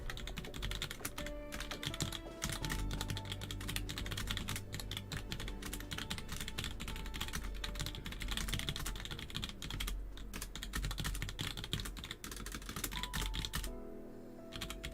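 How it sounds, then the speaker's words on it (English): Typing on a computer keyboard: a dense, fast run of clicking keystrokes, close and continuous, alone with no speech. "Yep, keyboard sounds."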